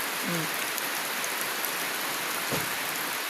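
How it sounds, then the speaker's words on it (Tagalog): Steady typhoon rain pours down in a dense, even hiss in Guihulngan City, Negros Oriental, Philippines, with no voices and a couple of faint low thuds underneath. "Ulan ra gid siya"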